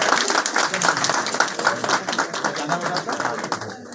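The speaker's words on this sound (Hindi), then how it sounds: "और तालियां बजती रहे आपकी।" An audience at a public health and sanitation event in India claps steadily and loudly, a continuous rattle of many hands that holds for several seconds.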